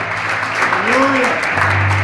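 A church congregation claps during a preacher's service, a brief burst of applause mixed with a voice rising and falling over a low hum.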